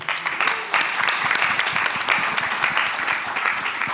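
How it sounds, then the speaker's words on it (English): An audience at a real estate and hospitality investment event applauds, dense steady clapping from many hands at moderate distance, sustained for several seconds without a break. "Let's put our hands together for Anthony."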